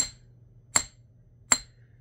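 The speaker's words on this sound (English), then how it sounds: "we're going to take out our block. And our chasing hammer." A chasing hammer strikes metal bobby pins laid on a block, flattening them. Two sharp, ringing metallic taps land about three-quarters of a second apart, close up, with quiet between them and no talk.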